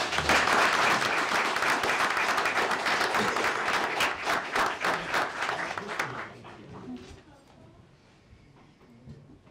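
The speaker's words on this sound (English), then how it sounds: "Let's give them a round of applause." City council meeting audience giving a round of applause, a loud dense burst of clapping that thins into scattered claps and fades after about six seconds.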